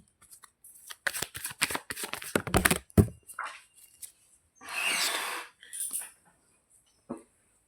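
Playing cards are shuffled and riffled in quick crisp bursts, with a card dropping at one point, followed by softer handling and pauses, close and clear with no talk.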